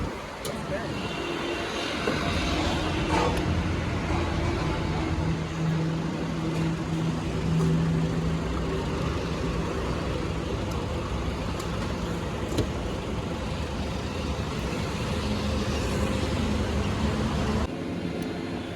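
Fast traffic on the Yamuna Expressway roars as a steady, loud rush of road and engine noise from inside a moving vehicle, with voices talking over it.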